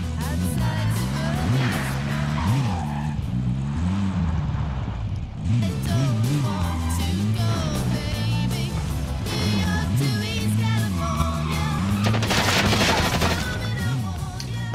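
In the Warzone battle-royale game, gunfire crackles in bursts, including shots from an FFAR rifle. A droning vehicle engine and game music run underneath, and a sharper cluster of shots comes near the end.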